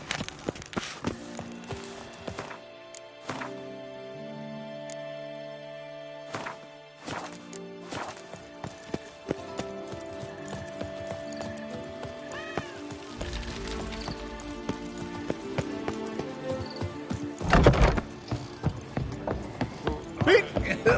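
Horse hooves clip-clop at a gallop in The Witcher 3, a steady rhythmic patter under game music and ambient effects, moderately loud throughout.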